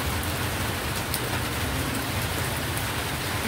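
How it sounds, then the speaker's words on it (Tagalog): Heavy rain pours steadily during an outdoor meal, a dense, even hiss of drops drumming on surfaces with no breaks, close and loud throughout. "Grabe, malakas yung ulan ba?"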